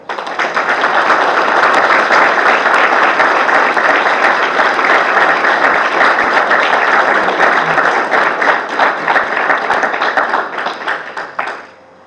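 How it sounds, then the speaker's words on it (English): A town council meeting audience gives a steady round of applause, dense continuous clapping from many hands at full loudness for about eleven seconds before it tapers off abruptly. "he deserves a tremendous round of applause"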